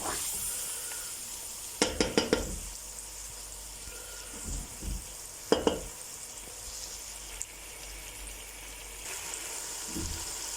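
Chicken pieces and tomatoes cook in a pot for chicken and pea pilau, giving a constant close frying hiss broken by a few clattering stirs of a spoon against the pot, with no voices.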